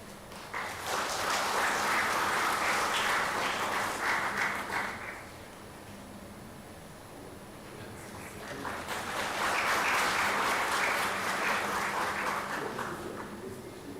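At an Antarctica Day ceremony with the Governor of Goa as chief guest, an audience gives two full rounds of applause. Each swells, holds for several seconds and fades, with a quieter pause between them.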